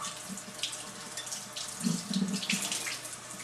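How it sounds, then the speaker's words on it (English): Tap water runs steadily into a sink as leeks are rinsed and cleaned inside, a continuous close splashing hiss with slight surges of water hitting the produce. "So she's going to rinse those and clean the insides of the leek."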